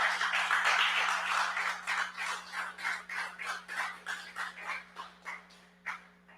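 A conference audience at an agility summit gives a round of applause, a dense burst of clapping that thins out gradually over several seconds, steady and moderately close with no voices over it.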